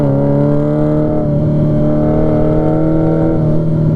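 A Honda Nighthawk CB750 motorcycle engine pulling onto a highway, a loud steady droning hum with a slight rise in pitch as it accelerates, heard up close without speech.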